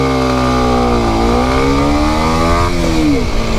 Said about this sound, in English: Now I'm just twisting the throttle here just to get an idea of how long it takes for the revs to go up.